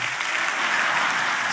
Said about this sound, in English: Give yourself a hand for bringing your butt to church.